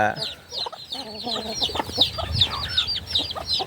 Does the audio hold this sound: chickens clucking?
yes